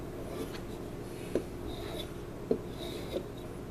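A blade drawn across a strop with light pressure gives faint, soft rubbing strokes with a few small clicks, quiet and close against a low background hiss.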